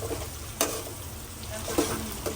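Ingredients, including tomatoes and garlic, are stirred in a hot pan while cooking roti in buttermilk, a soft steady sizzle punctuated by a few sharp spoon scrapes and clicks against the pan.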